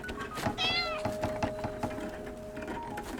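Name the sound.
cat meowing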